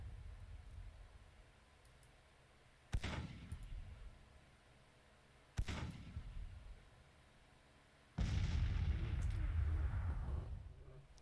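Artillery booms in the Grand Tactician strategy game: three loud, separate blasts with rumbling decay, the last one a heavier, longer roar, over a steady low background hum.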